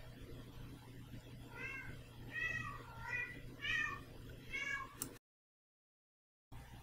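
A talkative pet cat meows indoors, giving five or six short, separate meows in a loose rhythm at moderate volume, then a brief drop to silence.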